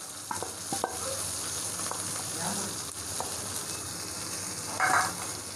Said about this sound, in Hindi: इसको हम थोड़ी देर के लिए इस तरह से पका लेंगे, भून लेंगे